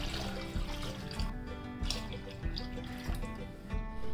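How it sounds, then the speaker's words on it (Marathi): Water pours steadily and close by onto sago in a vessel, a continuous splashing rush with soft low thumps recurring every second or so. "याच्यामध्ये ना एक 2 ते 3 ग्लास पाणी टाकणार आहे याच्यात"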